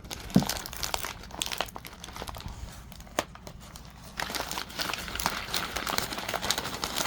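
Paper wrapping around a Jakks Pacific Pac-Man plug-and-play console is handled during unboxing, giving close, uneven bursts of crinkling and rustling that swell and fade, with no speech.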